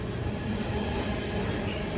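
A London Overground train passes close by with a continuous loud rumble and wheel noise, steady throughout with no voices.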